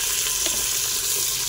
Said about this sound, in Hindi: मेरा घी गर्म हो चुका है, तब प्याज डालते हैं इसमें।